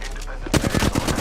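Rapid machine-gun fire aimed at the player in a video game, a quick burst of close, loud, evenly spaced shots following a brief quieter moment.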